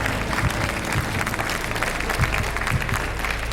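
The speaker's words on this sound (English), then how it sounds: "the audience don't know quite what to do, whether to clap when they share, clap when they don't share" Studio audience at a quiz show clapping steadily throughout, a dense, continuous wash of applause with some scattered louder claps, moderately close and without speech on top.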